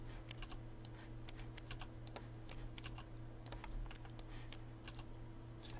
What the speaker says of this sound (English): You're gonna flip over 6 cards.